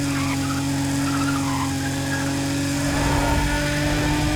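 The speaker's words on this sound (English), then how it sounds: "the two worst sounds that you want to hear coming from a car" A harsh, buzzing car engine drone from the video game Need for Speed ProStreet runs unbroken and loud, with a rough, whiny texture like tires squealing.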